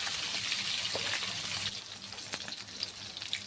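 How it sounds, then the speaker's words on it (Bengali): Bhola fish frying in oil in a wok, a steady close hiss and crackle of sizzling that drops slightly in level partway through, with no voices. "এরকম মাছগুলো ভেজেছি"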